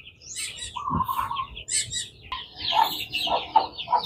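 Small chicks peeping in high, thin bursts close by, mixed with other fowl clucking softly in the background, in an outdoor yard.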